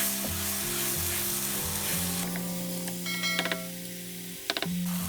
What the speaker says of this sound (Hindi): इन बैंगनों को लो फ्लेम पे 2 से 3 मिनट भून लेंगे। चम्मच मुसलसल हिलाते रहें